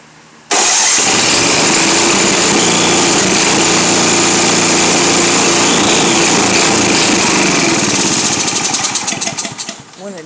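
A Simplicity 7524I snow blower engine with a running fault catches abruptly and runs with a loud, steady, high-pitched buzzing roar close by, then falters and surges near the end.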